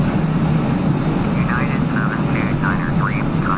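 A fixed-wing aircraft engine in Flight Simulator X drones steadily and loudly throughout, with someone talking over it.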